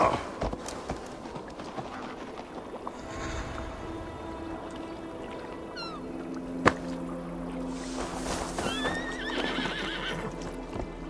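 A horse in the Assassin's Creed Valhalla video game gives a high whinny over a steady game ambience, with hoof clip-clops and a sharp knock partway through.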